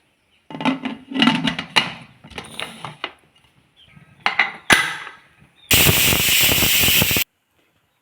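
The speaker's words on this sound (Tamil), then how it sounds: "3 விசில் விட்டு இறக்கிடலாம்." A pressure cooker cooking lentils lets off a loud, steady burst of steam hiss lasting over a second, preceded by scattered knocks and clatter in the kitchen.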